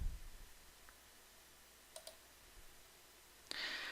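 A single faint computer mouse click, short and dry, stands out in near silence, with a few other soft clicks and a brief rustle nearby.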